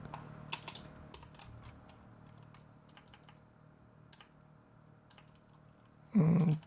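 Quick light clicks of typing on a computer keyboard run steadily for several seconds, close and soft, then a brief louder burst of noise at the very end.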